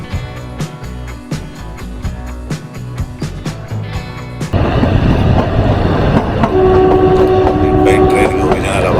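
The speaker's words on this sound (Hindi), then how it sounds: "ट्रेन की ओरिजिनल आवाज और शिमला का फर्स्ट व्यू" Shimla–Kalka toy train running on the mountain line, a rhythmic clatter in the first half giving way to a louder steady rumble, with a sustained horn tone toward the end.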